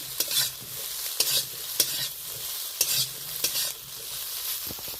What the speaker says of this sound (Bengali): তো সয়াবিনটা এই তেলেই আমি ভেজে নেব